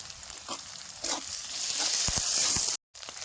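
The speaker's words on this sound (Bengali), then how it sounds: "আদাটা ভালো মতো ভাজা হয়ে গেছে" Ginger paste fries in oil along with onion in a kadai, a moderate crackling sizzle that swells midway, with a few low stirring knocks and a short silent gap near the end.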